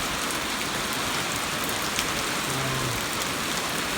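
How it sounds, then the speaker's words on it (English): Heavy rain falls steadily through a warm night, a dense continuous hiss of drops on surfaces that stays even and loud throughout, with no voices. "Rain that comes and goes. The heavy rain."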